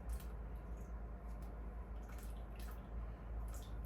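Canned coconut milk pouring into a mithai mixture, a faint, close liquid glug with soft wet drips and splashes running steadily throughout, no voices.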